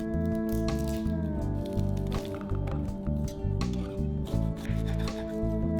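Garlic cloves are crushed close by, with a series of wet squishing, cracking presses and rhythmic knocks over a low background hum, no speech.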